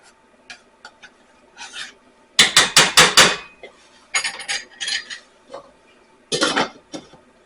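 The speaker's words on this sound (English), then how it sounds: "Stir it one more time." A pot of butter chicken stirred with a metal spoon, close and fairly loud, with a quick burst of rhythmic scraping clanks against the pot, then shorter scrapes and a final rattle, no talking.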